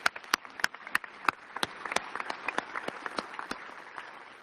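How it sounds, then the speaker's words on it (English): An audience at an agency's annual address applauds, with sharp, sparse claps at first that build into a denser, steady round of applause, close and moderately loud. "can we all give him another round of applause"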